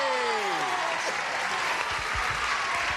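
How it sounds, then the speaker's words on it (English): Studio audience on a 1984 Match Game–Hollywood Squares Hour set applauding a game show contestant, a loud, steady wash of clapping that fills the clip, with a fading musical tone at the start. "I want to hear a big, loud applause for Cat."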